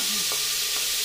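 Onion going into oil left over from frying chicken, a steady soft sizzle with a couple of faint stirring scrapes over about a second.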